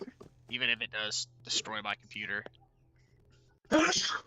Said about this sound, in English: I sneeze because I put flavor on my food.